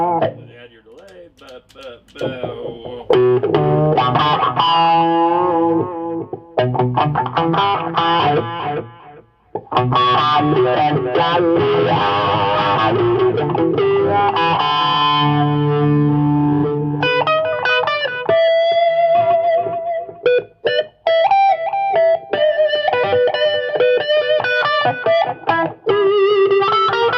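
Electric guitar with a delay effect running into an Orange CR120 amp: a long, loud distorted passage of chords and riffs, then brighter single-note lines with repeating echoes, played without talking.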